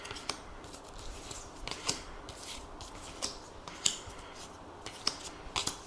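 Tarot cards being laid out into a nine-card spread, a series of light, crisp snaps and slaps as each card lands on the table, irregularly spaced and close up.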